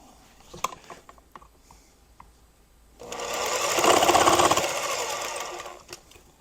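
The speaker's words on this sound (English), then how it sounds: "You just use the jigsaw for this and see if I can keep you all in frame right here, and we'll get this cut done here." A jigsaw cuts a board for a DIY battery box: after scattered handling clicks and knocks, a loud, steady buzzing saw run starts and holds for several seconds, then winds down, with no talk over it.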